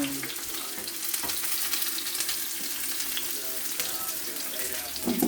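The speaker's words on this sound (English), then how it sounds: "give it some fry" Ingredients for a black-eyed bean stew frying in red palm oil: a dense, continuous sizzle with occasional stirring clatters, close and steady throughout, with no speech.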